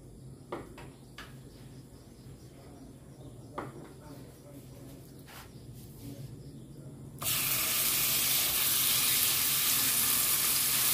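Ground pork hits hot oil in a pan and erupts into a loud, steady sizzle partway through, after a quieter stretch of faint kitchen clinks and room noise.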